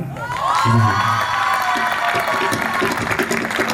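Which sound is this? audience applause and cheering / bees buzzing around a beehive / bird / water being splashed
audience applause and cheering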